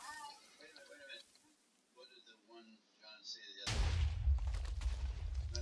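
A Minecraft TNT cannon fires and explodes in the video game, with a sudden loud booming blast after a stretch of quieter game sounds and talk, followed by sustained rumbling noise.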